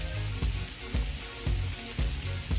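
Garlic sizzles steadily in a hot pan for a shrimp dish, a continuous close frying hiss broken by a few soft rhythmic stirring scrapes, with no voices.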